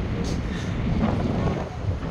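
Strong wind buffets the microphone with a steady low roar and rumble, continuous throughout, with faint water movement beneath, on cold, windy Abraham Lake.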